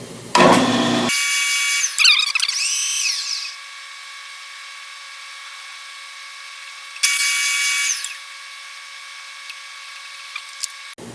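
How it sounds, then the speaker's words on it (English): A power drill whirs in short high-pitched bursts, drilling screw holes in a jig, spinning up and winding down twice with quiet gaps between. "The outside hole I'm drilling the size of the number 8 screw"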